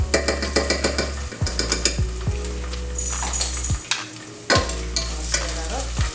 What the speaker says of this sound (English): Stir that up